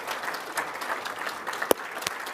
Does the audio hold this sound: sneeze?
no